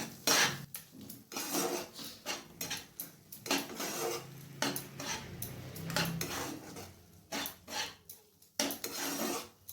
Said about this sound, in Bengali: এরপর গুঁড়ো মশলাটাকে ভালো করে কষিয়ে নিচ্ছি যতক্ষণ না মশলার থেকে তেল বেরিয়ে না আসে।